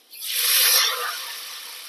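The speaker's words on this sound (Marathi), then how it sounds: "आता यामध्ये पाणी टाकायचं." Water hits a hot pan holding garlic-chilli paste for a rustic home-cooked dish, bursting into a loud hissing sizzle that swells then settles into a steadier hiss, alone without talk.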